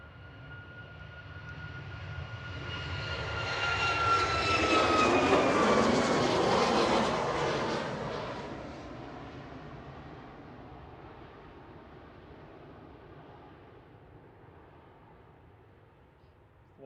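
A Ryanair jet rolls for takeoff at Manchester Airport, bound for Alicante, its engine roar building to a loud broadband peak with a falling whine, then fading gradually into the distance as it departs.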